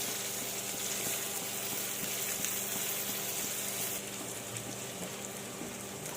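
Chicken fry sizzles steadily in a pan as chopped coriander goes in. The frying hiss is close and constant throughout, at moderate volume and with no voices.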